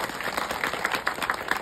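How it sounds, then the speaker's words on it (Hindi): Brief applause from a gathered crowd at a religious gathering, with individual claps audible in an uneven rhythm at moderate distance. "इसके लिए हम आपका स्वागत करते हैं, तालियां भी बजाते हैं।"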